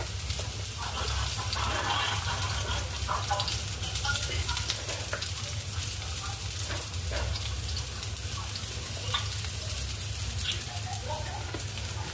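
Onion, garlic and ginger sizzle in hot oil as they are sautéed for chicken liver, a steady, close crackling hiss with occasional stirring scrapes.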